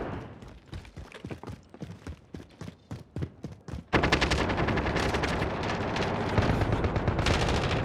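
Gunfire in the Warzone video game, from an M13 rifle: a run of separate sharp shots in a quick rhythm, then a dense, loud burst of sustained automatic fire.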